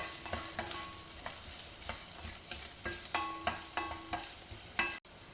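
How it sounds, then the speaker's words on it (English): Chopped onion sautéing in a pan for a potato fry side dish, with a steady low sizzle broken by repeated scraping strokes of a spoon roughly every half second, close and moderately quiet, no voices. "Then add 1 onion chopped or sliced and saute the onions also."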